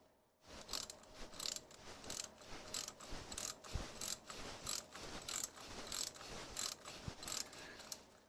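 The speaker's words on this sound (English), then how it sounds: "And I need a ratchet here." Ratchet wrench clicking on engine bolts during assembly, a close series of quick ratcheting bursts repeated in a steady rhythm, with no talking.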